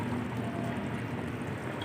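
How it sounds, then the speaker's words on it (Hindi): Water comes to a boil in a covered pot while pulao is being made, giving a faint, steady low rumble and hiss with no distinct bubbles or voices. "पानी में उबाल आ चुका है"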